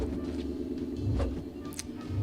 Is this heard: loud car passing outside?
yes